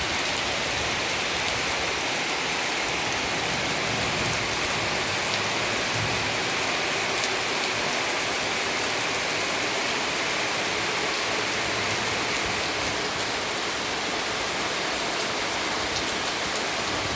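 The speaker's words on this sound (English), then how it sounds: "it is pouring rain" Heavy downpour during a flood in Puerto Rico, a steady, dense hiss of rain pouring onto surfaces, loud and unbroken for the whole stretch with no talk.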